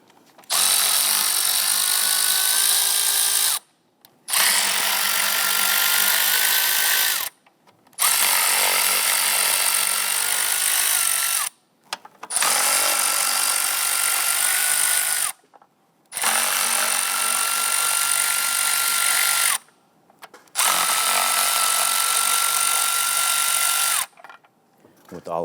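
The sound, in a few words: power ratchet loosening upper intake bolts, Jeep Grand Cherokee 3.6L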